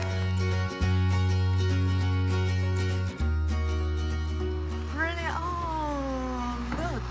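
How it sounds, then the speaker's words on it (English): At a wedding, a cat meows a couple of times near the end, drawn-out and wavering in pitch, over steady background music and a low hum. "Look at the cat!"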